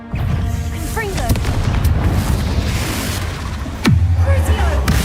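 A Confringo explosive spell in the video game Hogwarts Legacy, heard as loud booming blasts with a rumbling roar, whooshing sweeps and a strong impact near the end. Close and forceful, with no clear talk.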